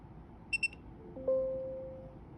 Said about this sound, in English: that beep sound is successful